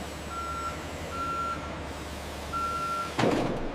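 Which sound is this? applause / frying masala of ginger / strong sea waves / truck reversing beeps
truck reversing beeps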